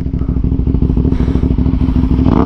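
BMW S1000R motorcycle engine idling while warming up, a deep, bassy, close rhythmic thrum with steady pulsing exhaust beats and a slight rise in revs near the end.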